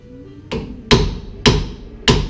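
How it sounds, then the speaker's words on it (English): Four sharp metallic hammer blows on a stuck bolt welded in place on a Nissan Xterra during a lift kit install, close and loud, spaced about half a second apart, with no talk. "the bolt that I was trying to beat out is actually welded on this inside"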